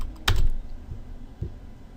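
A computer keyboard being typed on while entering a Cisco router NAT interface command, a quick burst of keystrokes near the start followed by a couple of softer isolated taps, close and alone.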